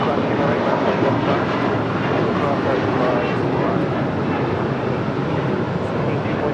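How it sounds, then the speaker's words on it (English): Boeing 777 freighter on arrival at LAX, a loud continuous broadband jet roar that stays steady throughout. "China Congo Airlines flight 223 coming in from Shanghai, 777 freighter."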